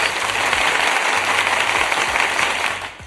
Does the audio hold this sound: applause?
yes